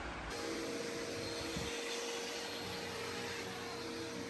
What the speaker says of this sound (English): Tie some plastic to the end of the wire, run the vacuum